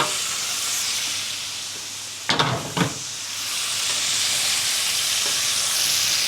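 Courgettes, tomatoes and sausages sizzle steadily in a pan with a bright, continuous hiss, broken around the middle by two brief louder bursts as the food is stirred or shifted.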